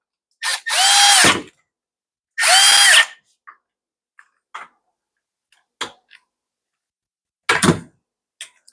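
A power drill drives screws back into an Echo SRM 225 string trimmer with two loud, close whirring bursts of about a second each. Scattered light clicks and taps from handling the parts follow in near silence.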